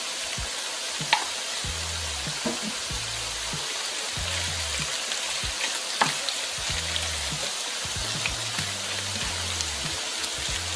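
Sliced onion stir-fries in a hot pan for Peruvian lomo saltado, a steady bright sizzle with scraping stir strokes and soft clacks recurring every second or two, close and alone.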